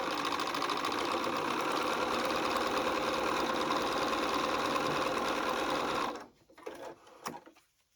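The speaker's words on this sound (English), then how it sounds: "fold it over, and I'm going to stitch" Sewing machine stitching a quilt block, running steadily and loud for about six seconds, then stopping and leaving a few faint handling sounds.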